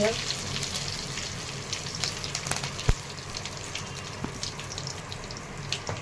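Garlic and cumin crackling in hot oil for dal tadka, a continuous close sizzle dotted with small pops and clicks of the pan.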